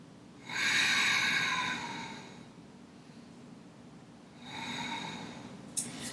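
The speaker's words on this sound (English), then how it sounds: "Few big breaths." Two big deliberate breaths during a yoga session, each a long, breathy exhale several seconds apart in a quiet room, the first louder and fuller than the second.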